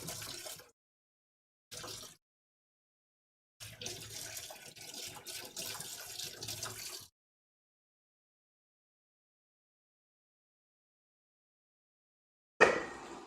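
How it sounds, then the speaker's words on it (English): Tap water runs over a kitchen whisk in bursts: two short splashes, then a steady few-second rinse, a long silence, and a brief sharp spurt at the very end. "I'm going to rinse off my whisk."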